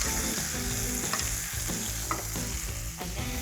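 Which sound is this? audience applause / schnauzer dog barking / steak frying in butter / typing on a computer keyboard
steak frying in butter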